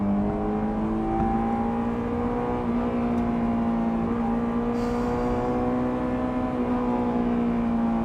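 A Honda S2000 sports car engine holds a steady drone at a constant pitch throughout, with a faint whir on top and no clear revving surges.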